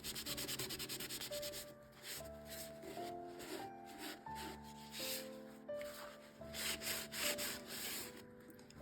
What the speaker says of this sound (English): I'm going to apply it with a brush, and I'm just going to brush it on and then use my shop towel to wipe it back